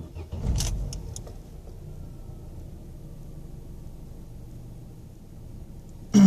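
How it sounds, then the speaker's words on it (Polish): An Opel Astra G engine cranks and fires around the half-second mark on a newly fitted idle stepper motor, then settles into a steady low idle rumble, with a louder surge right at the end and no talking. "I odpalamy silniczek, znaczy silnik na nowym silniczku krokowym."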